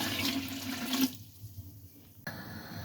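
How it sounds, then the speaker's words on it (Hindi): Water is poured into a pot of beef black pepper curry (kali mirch gosht) just after yogurt is mixed in. A close, rushing pour lasts about a second, stops briefly into near quiet, then returns as softer running noise. "अब साथ ही इसमें शामिल कर देंगे पानी।"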